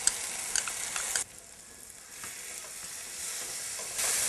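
Paste sauteing with onions in a pan for pepper chicken, a bright hiss that drops abruptly to a quieter sizzle, then swells again as stirring resumes.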